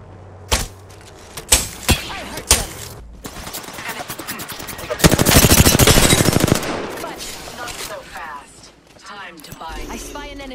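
Gunfire in Apex Legends: several single shots, then a sustained automatic burst, loud and close, with voices speaking around the shooting.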